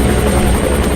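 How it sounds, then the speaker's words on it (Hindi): A helicopter flies in an action movie scene, its rotor giving a loud, steady low thudding drone that fills the whole moment without letting up. "कैप्टन, हेलीकॉप्टर को चारों तरफ घुमाओ।"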